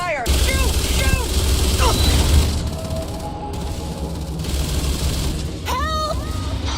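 Rapid gunfire in the Starfield video game, aimed at a creature, crackles in dense bursts over a low rumble, with shrill whooping creature or electronic cries rising over the shooting near the end.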